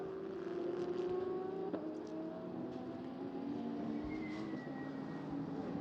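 Race cars, among them a Porsche 991, roar around the Misano circuit in a steady, distant engine drone with shifting pitch as cars pass and change gear, faint and continuous.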